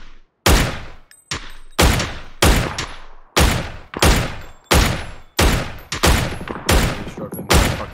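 Gunfire in a shooter video game, loud close single shots or short bursts fired in a steady run of about ten sharp cracks with brief gaps between them.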